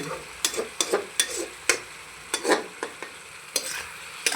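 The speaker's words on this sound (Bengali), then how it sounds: "দেখুন আলুটা দিয়ে দিয়েছে এখন নেড়ে ছেড়ে সুন্দর করে" Potatoes and spinach frying in a pan, stirred with repeated scraping strokes over a steady sizzle, close and moderately loud with no talking.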